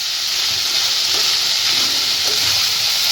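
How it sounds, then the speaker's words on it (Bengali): Winter vegetables, including cauliflower, fry for chow mein over raised heat, giving a loud, steady sizzle with light stirring movements throughout. "সবজিটা ভাজা হচ্ছে"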